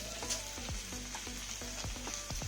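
Ginger garlic paste sizzles and fries in a pan for a hot, spicy chicken dish, a steady close hiss with repeated scraping strokes as it is stirred.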